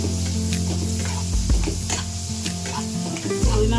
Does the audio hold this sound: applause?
no